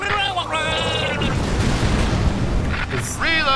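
Cannon fire and a booming explosion from the video game Brutal Legend rumble loudly and continuously, with shouted game voices over the blasts.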